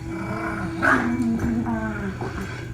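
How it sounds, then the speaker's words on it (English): Puppies growl and yip at close range in a short scuffle, with rumbling snarls and a few sharper whimpering cries. "watch these puppies fight"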